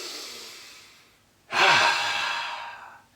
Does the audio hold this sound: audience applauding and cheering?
no